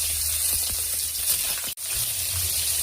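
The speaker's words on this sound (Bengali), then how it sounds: "এই মাছ ভাজা করে নিই মাথাটা" A fish head fries in hot oil, giving a steady close sizzle with light popping and one brief break.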